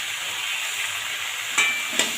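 Washed lentils frying with ginger paste in a pan, giving a soft continuous sizzle with two brief scraping stirs near the end.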